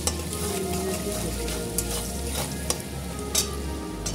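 Chicken ghugni masala of chicken with potatoes, salt and turmeric fries in a pan, giving a steady close sizzle with a few stirring scrapes and no voices.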